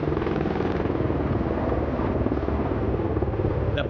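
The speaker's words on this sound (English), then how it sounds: "The patrolling helicopter is now conducting air reconnaissance" A patrolling helicopter flies during a maritime and aerospace exhibition demonstration, a loud, steady broadband rotor and engine roar that holds constant throughout with no speech.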